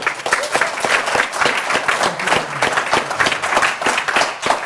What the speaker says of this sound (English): So I'm going to ask you to give Simon a round of applause